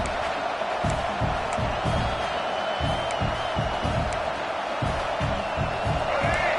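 Football stadium crowd roars steadily, a dense wall of cheering and noise from a distant mass of fans that holds constant with a rhythmic pulsing chant or stomp running underneath.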